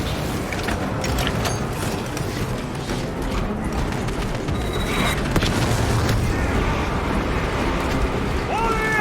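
A weapon is reloaded in Warhammer 40,000: Space Marine 2, with mechanical clacks and ratcheting clicks set against a loud, dense wash of booming battle noise that runs the whole time.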